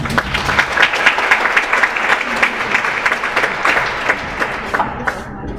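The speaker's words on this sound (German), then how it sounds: "vielen Dank für Ihren Applaus" A lecture-hall audience at a German talk-series event claps steadily in dense, loud applause that holds evenly for several seconds before thinning slightly at the end.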